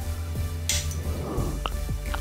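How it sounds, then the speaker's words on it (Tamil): A metal lid set down on a cooking pot of egg kofta curry on the stove, one short close clatter and clink over a low kitchen hum. "உப்பு போட்டு மூடி வச்சிடலாம்."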